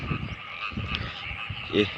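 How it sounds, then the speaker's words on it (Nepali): Frogs croak in rain-flooded farm fields, a few short, close croaks rising over a steady wet outdoor background. "भ्यागुताहरू पनि कराउन थालिसकेका छन्"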